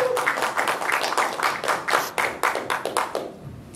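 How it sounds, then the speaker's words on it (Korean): An audience claps continuously in a lecture hall to welcome a Korean medicine doctor giving a spine health talk, with dense, steady clapping that thins out near the end. "박수로 맞이해 주십시오"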